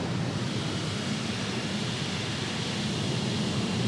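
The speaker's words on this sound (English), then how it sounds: "it's underbody wash right now" Underbody wash of a Ryko Monarch II in-bay car wash at a Sinclair gas station in Ogden, Utah: a steady, broad hiss of pressurized water spraying beneath the car, constant and unbroken throughout.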